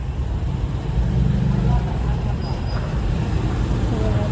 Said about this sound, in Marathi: हे बघा दिन दहाडे ट्रॅफिक झाली आहे.